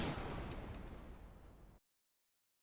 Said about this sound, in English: Let's try grenade explosion metal, because this is technically metal exploding.